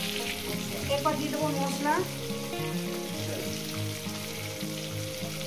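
Bata fish curry ingredients fry in a pan with a continuous bright sizzle, while a person talks over the cooking.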